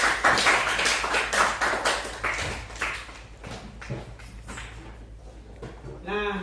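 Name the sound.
class clapping hands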